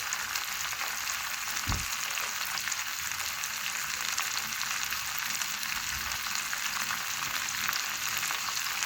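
Melted butter boiling steadily in a pan over low heat while being cooked down into ghee, a continuous dense bubbling sizzle throughout, close and even, with no talking.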